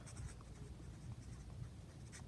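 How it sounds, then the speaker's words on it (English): Pencil or pen writing the date on paper in a fourth-grade drawing lesson, a faint, continuous scratching with small strokes, close and quiet, no voices. "Today we are going to write the date at the top of our paper."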